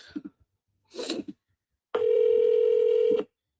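A phone call back starts with a few short dialing blips, followed by a single steady electronic ringing tone that lasts just over a second, close and clear.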